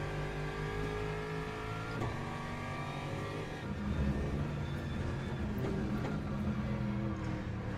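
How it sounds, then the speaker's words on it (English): Race car engine in the Le Mans Ultimate sim at Bahrain, off throttle with a steady droning whine and harmonic tones, continuous and fairly loud throughout, no talking. "This car off throttle sounds so good."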